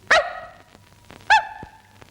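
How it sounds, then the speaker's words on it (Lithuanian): Two sharp dog barks from an old animated cartoon, loud and close, spaced about a second apart with quiet in between. "Koks agresyvus šuo."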